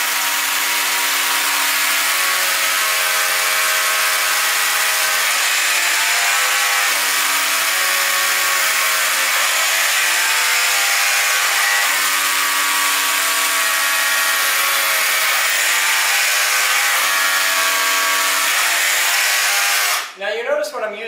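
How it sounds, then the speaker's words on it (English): Power drill peck drilling holes in wood with a long, skinny 3/16 bit while installing shelving, a loud, continuous motor whine with small pitch shifts as the bit is eased in and out, ending with a brief clatter. "Now you notice when I'm using this, I'm peck drilling."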